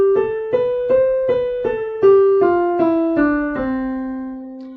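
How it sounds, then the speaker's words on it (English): A major scale played on piano, eight separate notes rising steadily at an even pace, each struck clearly and left to ring, with the final note sustained and fading. "In Western Hemisphere music, that's called a major scale."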